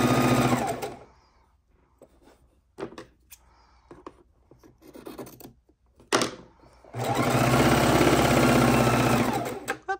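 A household sewing machine stitching scrappy quilt fabric pieces with a tight stitch setting. It buzzes loud and close in two bursts, one at the start and a longer run at the end, with quiet handling clicks and rustles between them.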